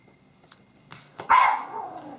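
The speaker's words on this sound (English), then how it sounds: "And there goes my dog barking." A small house dog barks indoors, a few faint yips leading into one louder bark that trails off, heard from a short distance in an otherwise quiet room.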